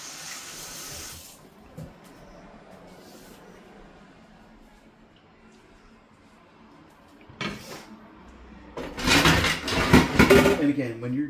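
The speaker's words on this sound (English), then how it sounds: "It's going to take a second to wash my hands." A kitchen tap runs while hands are washed after handling raw burger meat, the water starting faint and growing into a louder, close rushing stream near the end, with someone talking and a cupboard sound earlier.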